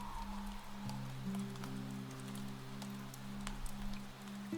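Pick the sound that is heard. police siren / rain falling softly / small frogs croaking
rain falling softly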